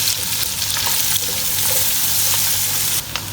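Two medium onions, finely chopped, fry in hot oil in a pan with a loud, continuous sizzle and occasional stirring scrapes, no voices over it.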